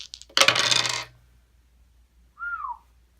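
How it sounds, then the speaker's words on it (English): Two dice clatter and rattle briefly on a hard surface in a quick, bright burst lasting under a second, followed by quiet and a short separate whistling tone. "so we roll 2 dice"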